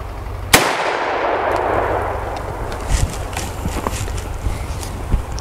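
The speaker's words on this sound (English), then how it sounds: "we're gonna go ahead and take this shot now" A single sharp, loud report from a gun firing blank ammunition, followed by a long fading echo and some faint shuffling movement.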